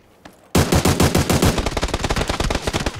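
Rapid automatic gunfire in the PUBG video game erupts after a brief quiet moment, then continues as a loud, dense, sustained burst of closely spaced shots until the end.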